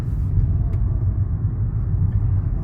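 An Infiniti car driving after its valves were repaired, with a steady, loud low engine and road rumble that runs unbroken throughout and has no voices over it.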